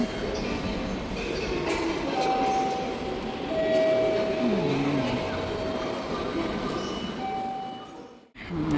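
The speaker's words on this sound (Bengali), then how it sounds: "Nagasaki train station" A train at Nagasaki station in Japan in the evening, heard as a steady, loud rumble with drawn-out tonal squeals or horn-like notes, with voices faintly mixed in, then cutting off abruptly near the end.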